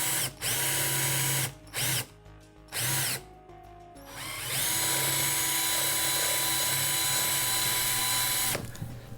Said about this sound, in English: we'll start by drilling out the single rivet post with a drill